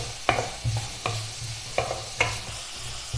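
Green chillies and onions with salt are stirred in a frying pan, five or six quick spoon scrapes and clinks spaced over a low, constant sizzle, close and clear.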